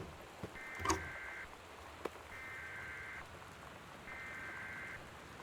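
Steady rain falling during a severe weather warning in the video game Gone Home, a faint continuous patter with occasional drips and soft ticks, under three evenly spaced electronic alert tones.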